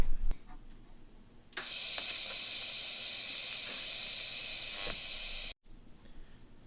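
Tack welding steel onto a Mazda Miata drift knuckle using 308 filler. A steady hiss of the arc runs for several seconds, close and even, framed by quieter shop noise with no voices.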